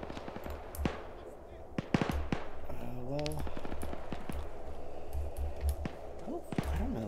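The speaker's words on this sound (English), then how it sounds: "it sounds like small arms to the west" Small-arms gunfire crackles in a military video game, with scattered sharp shots and short rapid bursts at moderate distance over a steady background rumble, while a voice talks faintly beneath.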